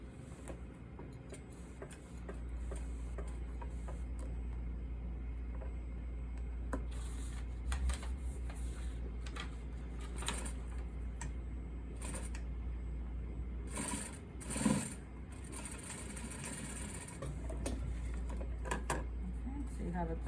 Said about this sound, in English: then you can sew the seam once more